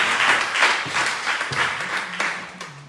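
A church congregation at an evangelistic meeting in Sokodé, Togo claps in steady rhythmic waves, a dense roomful of hands held at moderate loudness without talk over it.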